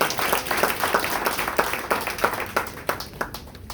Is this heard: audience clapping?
yes